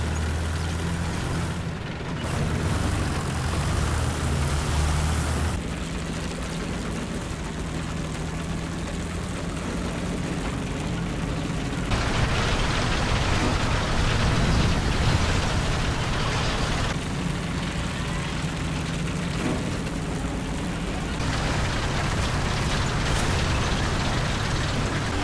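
Tank engines from a tank video game, a dense continuous rumbling roar that changes character in several distinct segments, loud and steady with no talk.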